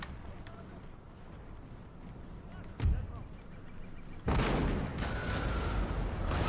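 Artillery cannon fire in the strategy game Total War: Empire, a single deep boom near the middle followed by a heavy sustained roar of battle with rumbling gunfire over ambient background.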